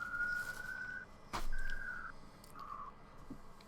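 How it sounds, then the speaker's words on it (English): A distant siren wails in a few steady tones broken by gaps, faint behind a nearby sharp knock and room noise. "sirens in the background."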